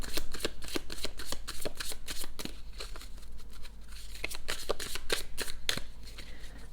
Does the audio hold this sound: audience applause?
no